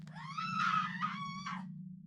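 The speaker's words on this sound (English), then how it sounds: "she screamed." A woman screams in a long, high-pitched, wavering cry that rises and breaks over about a second and a half, fairly faint against a steady low hum.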